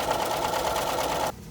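A sewing machine runs a quarter-inch seam on fabric binding strip, a steady, fast mechanical whir of needle strokes that stops abruptly just before the end.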